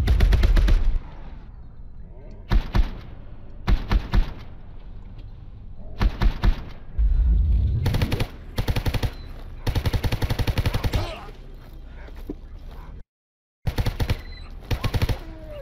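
Gunfire in the video game Stalker Anomaly comes as repeated sharp bursts of automatic and single shots, loud and close, with brief quiet gaps between volleys.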